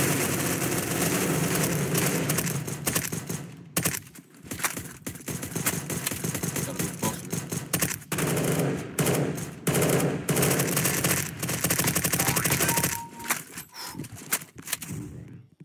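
Rapid automatic gunfire in Counter-Strike: Global Offensive (CSGO) comes in loud, dense bursts. Brief gaps separate volleys of sharp single shots, with background game noise throughout.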